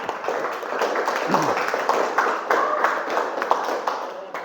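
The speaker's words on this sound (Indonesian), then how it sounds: "Beri aplaus pada teman kita" Classroom applause for a classmate, a steady patter of many hands clapping together under murmuring voices, moderately loud throughout.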